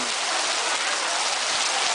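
Heavy rain falls during an outdoor ceremony in Thailand, a dense steady hiss of drops pouring down without a break.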